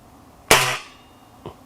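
A single sharp crack from a Swiss Arms Tac 1 4.5 mm air rifle firing a Pro Magnum pellet, loud and close with a quick decaying tail and a faint pellet impact knock a second later.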